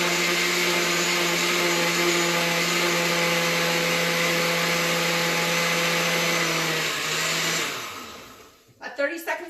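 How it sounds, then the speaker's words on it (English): A kitchen blender on its liquefy setting pureeing peeled fruit, a loud, steady motor whine held for about eight seconds before it spins down and stops, followed by a few clattering knocks. "put it in the blender. And I'm going to hit liquefy"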